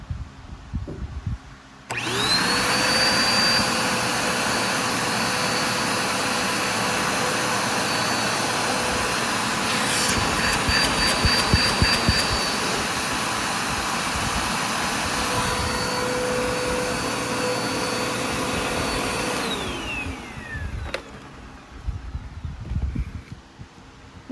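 A Dirt Devil Endura Lite vacuum cleaner running with a clog, switching on with a loud steady whine and roar that holds for about eighteen seconds, briefly shifting pitch before winding down, close by.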